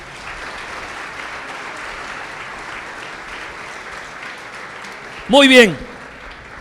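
A church congregation applauds together in a steady, sustained wash of clapping that fills the room, with a voice rising briefly over it near the end.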